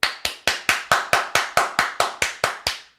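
One person clapping hands in a slow, perfectly even rhythm, about a dozen crisp, close claps each ringing briefly before the next, with no talk.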